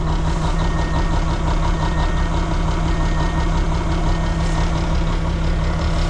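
A truck engine started cold at minus 24 degrees, running loud and near with a rough, steady diesel idle and a rattling knock throughout, no talking.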